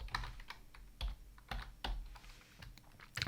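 Typing code on a computer keyboard, a steady run of close, crisp key clicks in uneven bursts, with no voices.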